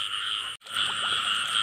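Dense, loud chorus of frogs croaking at night in the rain, a steady layered drone of calls that drops out for an instant before resuming just as full.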